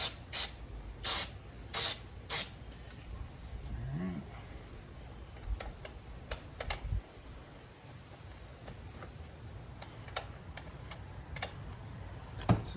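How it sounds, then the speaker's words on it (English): Carburetor or air intake cleaner sprayed into a car's throttle body in four short, sharp bursts of hissing spray, followed by quieter ticking, clicking and faint handling sounds from the work. "we've got some carburetor or air intake cleaner that we can spray in there and clean some of that out"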